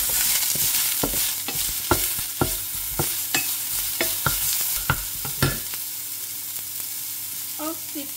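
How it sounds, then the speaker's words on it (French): Shallot and garlic sautéing in a hot pan before courgettes go in, a steady sizzle broken by regular scrapes and knocks of a utensil stirring, close and clear, with no talking. "je vais revenir échalote et l'ail en premier"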